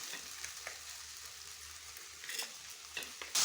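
Fish and masala frying in a pan for a curry, a quiet steady sizzle with a few soft stirring clicks, fairly faint and without talk.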